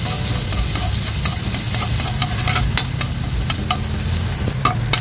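Garlic sautéing in a pan for ginisang ampalaya with shrimp, a steady close hiss and crackle of frying with light stirring scrapes throughout, no talk.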